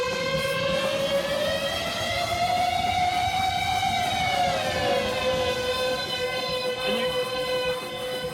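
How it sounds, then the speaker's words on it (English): A theremin fed through a Digitech Vocal 300 effects pedal sings one sustained, swooping electronic tone, loud and alone, gliding slowly up and down like a wavering siren. "I use this thing to run effects through the theremin"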